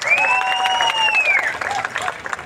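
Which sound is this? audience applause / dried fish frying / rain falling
audience applause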